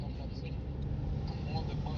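Inside a city bus on Central Ave, a steady engine rumble drones on with road noise, and muffled voices murmur in the background.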